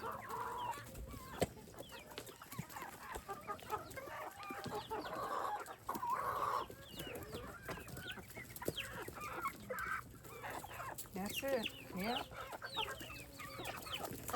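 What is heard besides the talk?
chickens clucking while eating corn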